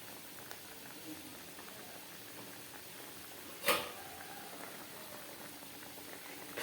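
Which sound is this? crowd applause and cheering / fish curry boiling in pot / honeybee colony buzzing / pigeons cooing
fish curry boiling in pot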